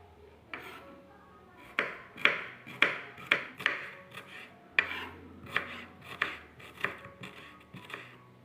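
A knife slices shallots and garlic on a cutting board, a run of about a dozen crisp, evenly spaced chops with faint metallic pings, close and clear with low background noise.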